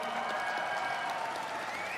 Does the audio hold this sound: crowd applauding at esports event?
yes